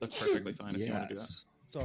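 A single short sneeze bursts out during lively conversation at a Dungeons & Dragons tabletop game session, with people talking before and after it.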